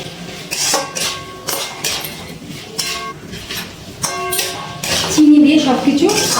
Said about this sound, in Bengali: চিনি একটু মিশিয়ে নিচ্ছি।